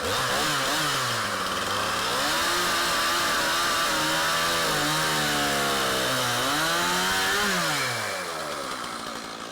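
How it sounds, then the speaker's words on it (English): Cutting wood on a farm, a chainsaw runs loud and close. Its engine pitch rises and falls continuously as it bogs into the cut and revs back up, then eases off near the end. "I think I cut straighter with the chainsaw than I do the circular saw."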